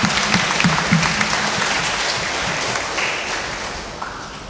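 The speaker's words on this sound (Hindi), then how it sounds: "आइए हम उनके लिए भी जोरदार ताली बजाएं" Loud applause from a church congregation during a novena service, with a burst of clapping at the start that tapers into a steady, gradually fading wash, with a few faint voices mixed in.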